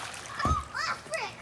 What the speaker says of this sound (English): Bella, gonna throw water balloons at the people in the pool.